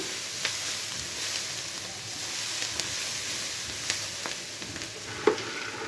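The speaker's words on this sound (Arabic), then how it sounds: "في نفس الوقت انا بحمر مكرونه برضو جنبيها اهو" Pasta browning beside golden, softened onions in a pan, with a steady close sizzle and occasional soft clicks of stirring, no talk.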